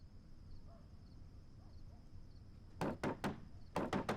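Knocking on a door in a dubbed Chinese film scene: two quick groups of sharp, solid raps, three then two, sound close and loud over a quiet room hum with no talking.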